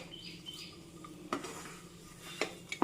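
A spoon scrapes and clinks in a pan as it stirs a thick mango dessert on a stove that has been turned off. The soft stirring is punctuated by a few sharper metallic taps, faint and close.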